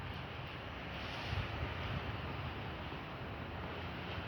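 Wind blows outdoors under an overcast sky, heard as a steady broadband rush and buffeting against the microphone, loud and constant with a brief gust near the middle, no voices.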